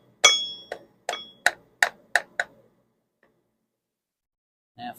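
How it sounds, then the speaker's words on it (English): A wooden block knocks against a VW engine case during a rebuild, giving about seven sharp, evenly spaced taps close by, then a pause and one more knock. "You can even hear the block of wood up against"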